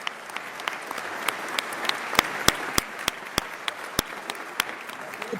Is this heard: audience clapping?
yes